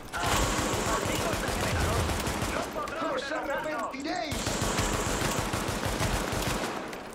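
Gunfire in the video game The Division: dense rapid bursts of automatic fire, loud and close, pausing briefly in the middle before resuming, with a voice talking over parts of it.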